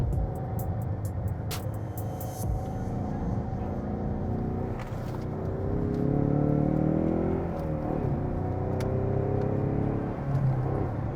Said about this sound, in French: On va aller tourner dans la ville un peu, on va aller voir ce que le 4 cylindres qu'il y a sous le capot il peut donner.